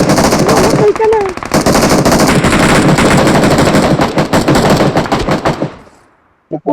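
Rapid automatic gunfire from a shooter video game rattles loudly in dense bursts for several seconds, with a voice briefly heard, before cutting off abruptly near the end, leaving a short pause and a final shot.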